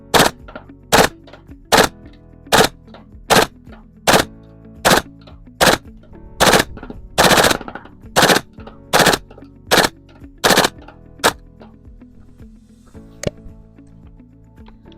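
Airsoft gas blowback rifle fired on full auto outdoors in cold winter weather, a series of about fourteen short, sharp bursts evenly spaced, loud and close, then a lone shot after a pause.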